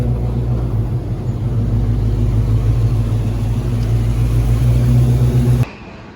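A little blue truck with an LS-swapped engine drives on its first run, a steady low engine drone and rumble with cabin noise, continuous and loud, cutting off abruptly near the end.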